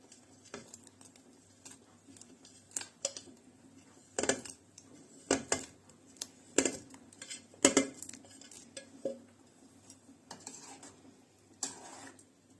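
Cheese balls dropped into potato soup in a pot, giving scattered clinks and knocks of a utensil against the metal pot with soft splashes in between, close and intermittent, with no talking.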